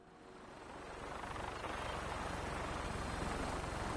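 An aircraft engine at full throttle in Fallout 4, a dense, steady rotor-like roar that swells over the first second and then holds loud and constant, with no talk.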